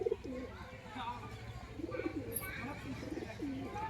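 Pigeons coo softly and repeatedly at close range, with low murmuring calls recurring throughout, a faint chirp overhead and people talking nearby.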